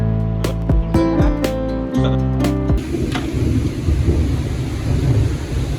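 Heavy rain pours down steadily and loudly, beginning after a burst of deep thunder and tonal rumbling at the start.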